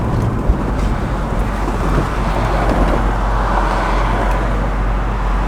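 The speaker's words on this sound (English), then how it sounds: "The car runs good." Steady, loud rumble of a 1979 Pontiac Trans Am engine running, a continuous close drone with no distinct pulses or changes across the stretch.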